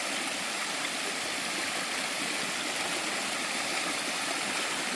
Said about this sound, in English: Found this cool little waterfall